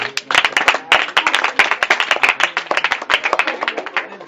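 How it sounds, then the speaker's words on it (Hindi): An audience at a session in Chakia claps briskly, a dense run of sharp, close hand claps with a voice speaking over part of it. "बहुत बढ़िया, तालियां भाई"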